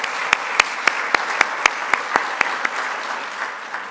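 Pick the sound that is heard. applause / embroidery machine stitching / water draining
applause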